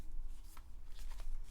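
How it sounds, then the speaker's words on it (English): Tarot cards being shuffled by hand, a quick papery riffle with a few sharper flicks, close and fairly quiet with no talking. "I'm just gonna shuffle until I hear a question."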